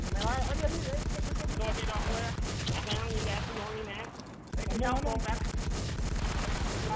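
Rapid bursts of video game gunfire from a Thai online shooter match, loud and dense with overlapping shots and a short lull midway, mixed with game effects and excited talk.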